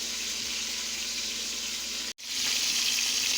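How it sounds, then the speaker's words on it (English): Cube steak sizzles and spatters in a frying pan with a steady, loud hiss that barely breaks, close up and free of talk. "This is what the cube steak is looking like while it's frying in the pan."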